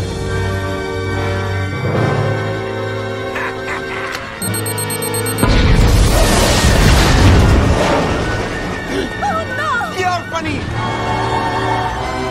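A cartoon explosion booms out in an animated Western-style toy battle, a loud broadband blast that swells around the midpoint and fills the scene over music and voices.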